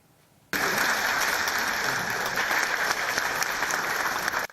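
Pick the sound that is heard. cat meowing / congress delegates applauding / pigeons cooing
congress delegates applauding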